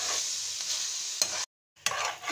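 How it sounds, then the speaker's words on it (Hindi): Fried keema being stirred with tomato and spices in a hot pan, a steady close sizzle with scraping strokes, cut by a brief silent gap before the sizzling resumes; no voices. "अब इसके अंदर हम टमाटर ये ऐड कर देंगे, इसी के साथ अपने सारे मसाले भी ऐड कर देंगे, इनको कर लेंगे मिक्स।"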